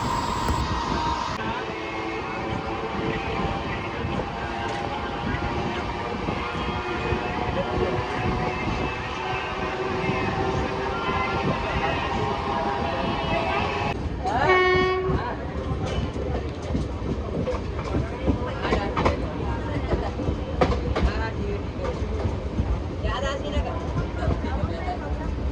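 The Dakshin Express runs on Indian rails with a continuous, loud rumble and rhythmic clatter heard from on board. A brief whistle-like tone cuts through partway, and a voice speaks under the train noise.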